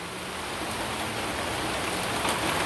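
Rain falls steadily as a dense, even, hissing wash of drops on surfaces, loud and unbroken throughout with no voices.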